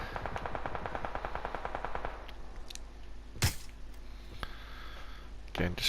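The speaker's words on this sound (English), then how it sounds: "Again, just firing, moving back behind. I've got the silencer." Suppressed gunfire from a silenced weapon in PUBG on PS4, set in the snowy Vikendi map: rapid bursts of automatic fire for about two seconds, then a few isolated loud shots, with game ambience under it.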